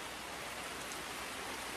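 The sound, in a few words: rain falling outdoors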